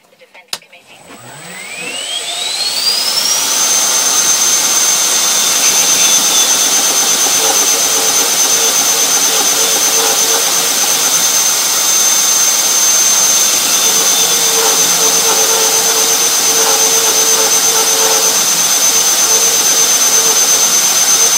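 A knife blade is surface-ground on a belt grinder running an A45 Trizact belt, roughly 400 grit. The motor spins up over the first few seconds, then holds a loud, steady, high whine with grinding noise throughout and no talk.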